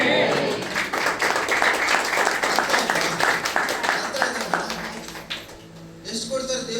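A church congregation claps during a sermon, a quick run of rhythmic claps rising and then fading, with a voice speaking over them.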